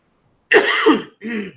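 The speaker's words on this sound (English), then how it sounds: "It's just a really annoying cough." A single close cough from a cold, harsh and throaty, followed by a shorter second cough, with no talking.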